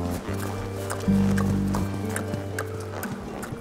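A horse walks across the floor of an indoor riding hall with a rider on its back. Its hooves make a steady clip-clop over a sustained low humming tone.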